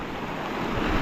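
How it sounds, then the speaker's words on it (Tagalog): Swollen Dumaca river rushing in flood, a dense broadband roar of fast water, loud and unbroken through a brief moment with no voices. "Yan laki ng tubig ng Dumaka."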